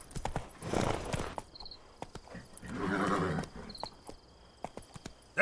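Roach, the horse in The Witcher 3, trots with rhythmic clip-clop hoofbeats in bursts, close and fairly loud, with a whinny and soft game ambience in the pauses.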